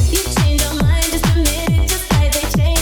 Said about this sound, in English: We then turn on oscillator B, saw wave